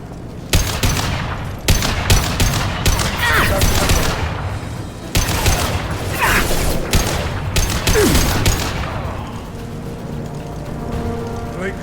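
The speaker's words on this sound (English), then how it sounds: "Blue Suns and Vorcha shooting anything that moves" Gunfire from Blue Suns mercenaries and Vorcha in Mass Effect 2, with rapid bursts of automatic shots in repeated volleys separated by brief pauses, loud and close, tapering toward the end.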